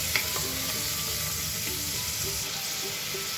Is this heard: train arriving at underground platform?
no